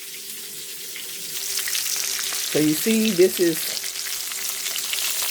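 Stuffed meatballs filled with mozzarella and spinach sizzle and fry in a pan being seared before the oven, a steady crackling hiss that continues under a brief stretch of talk.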